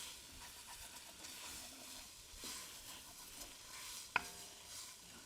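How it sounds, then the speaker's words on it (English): Onions being stirred and scraped in a pot for chicken and dumplings, heard as quiet, repeated soft scrapes and gentle hissing, with one sharp metallic clink near the end. "you want to keep stirring at this point because you don't want your onions to stick to your pot"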